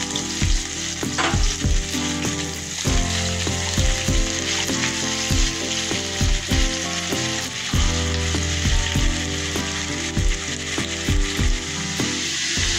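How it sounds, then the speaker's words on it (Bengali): A chopped onion fries in spiced oil for a coconut prawn curry, a loud, dense sizzle throughout, punctuated by regular scraping and knocking strokes of a spatula against the pan. "পেঁয়াজটা ভাজা ভাজা হয়ে গেছে"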